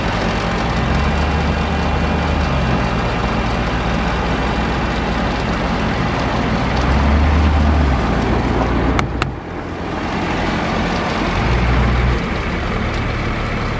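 A 2008 Honda Civic with a 1.8 liter engine running during a transmission check, a steady close idle with a low, even hum and a brief dip in level near the end.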